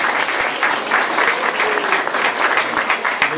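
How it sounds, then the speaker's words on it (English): An audience claps for itself at the ribbon-cutting for Lovelace Regional Hospital in Roswell. The applause is close, even and sustained, made of many overlapping hand claps with no talking. "give yourselves a round of applause for being here tonight"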